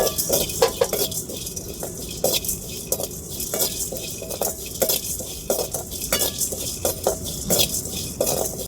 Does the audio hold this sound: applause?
no